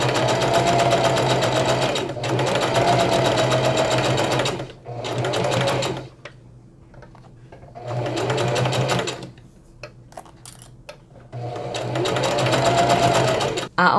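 A sewing machine runs in steady bursts while stitching around the round edges of a denim patchwork bucket hat. It whirs loud and close, with short pauses between runs and quiet talking during the gaps.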